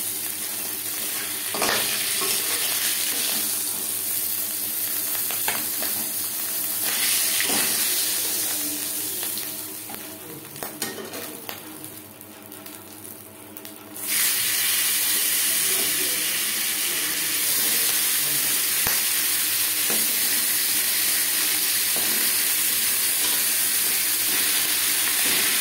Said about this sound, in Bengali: পরের মাছের মাথা একইভাবে ভেজে নেব।